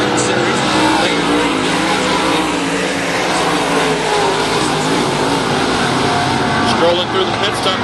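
Race cars roar around a dirt track at Salina, a constant loud engine drone with revving swells and the odd tire squeal, while an announcer talks over the racing.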